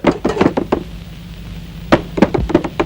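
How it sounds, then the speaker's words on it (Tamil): Knocking on a wooden door in a tense night scene from a Tamil drama film: a quick burst of four or five sharp raps, a pause of over a second, then another run of firm knocks, loud and close. "எங்க கதவு தட்டுறது யாருன்னு சொல்ல மாட்டீங்களா?"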